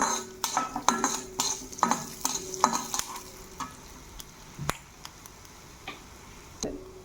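Coriander seeds are tipped into a pan with cumin and fenugreek for homemade vangibath powder, then stirred with a metal spoon: sharp scraping clinks against the pan and light dry rattling, close and without speech.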